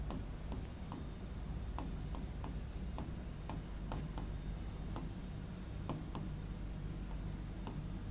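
Pen or chalk scratches out notes during a lesson on the features of India's constitution, a close, continuous scraping with regular short strokes over a steady background hiss.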